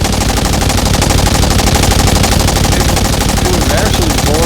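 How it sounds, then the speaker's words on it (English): Continuous rapid gunfire from shooting practice in the video game State of Decay 2, loud and steady throughout with dense automatic bursts and no pauses. "I'm just gonna do some shooting practice."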